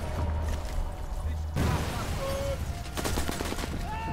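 Rapid, sharp gunfire bursts echo in the video game Sniper Elite 4, crackling over steady game ambience and music while players talk.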